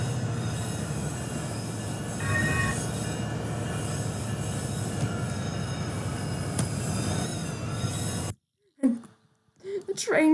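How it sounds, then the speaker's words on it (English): In the Rails Unlimited video game, a train rumbles and roars loudly and continuously with grinding wheel squeal for about eight seconds. The noise then cuts off abruptly, leaving brief bursts of sound in near silence. "This train crashed."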